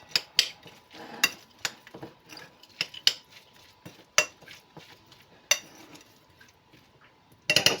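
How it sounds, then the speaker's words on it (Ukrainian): A spoon clinks and scrapes against a bowl while mixing tuna salad, a steady run of irregular taps and rattles up close, ending in a sharper clatter. "І перемішуємо цей салат."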